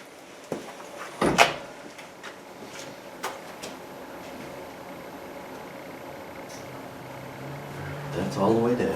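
Rear hatch of a third-generation Camaro closes with a couple of sharp thuds and a few lighter knocks, followed by a quiet stretch and rustling near the end.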